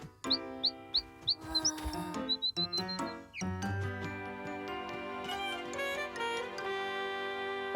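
A small bird chirps in quick short high peeps, a rapid run of tweets at the start followed by a bright tinkling melodic cartoon-style soundtrack.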